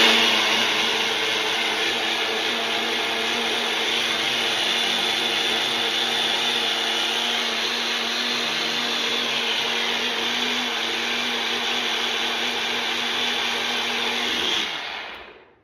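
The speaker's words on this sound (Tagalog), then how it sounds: "Tapos blender natin." A kitchen blender whirs steadily for about fifteen seconds, blending a homemade shawarma sauce, loud and continuous before it cuts off abruptly at the end.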